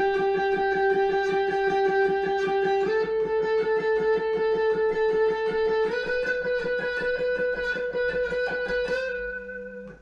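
An electric guitar picks one sustained note in rapid repeated strokes, played slowly with four fingers, shifting pitch a few times before fading out.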